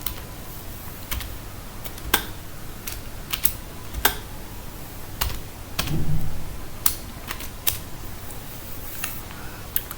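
Python code being typed on a computer keyboard: scattered, irregular key clicks and taps, close and fairly quiet, with short pauses between bursts and no talking.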